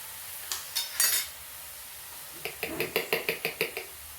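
Fried onion and tomato are stirred in a pan for basa fish curry, with a few spoon knocks and then a quick rhythmic run of scraping taps against the pan over a faint sizzle.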